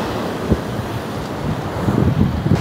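Waves on Bheemili beach, a steady broad wash of surf mixed with strong wind buffeting the microphone, with a few heavier gusts toward the end.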